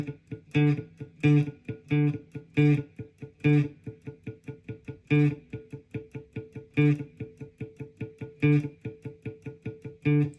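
A muted electric guitar chugs in a steady rhythm, heavier accented strokes alternating with quick dampened clicks, played alone and fairly close.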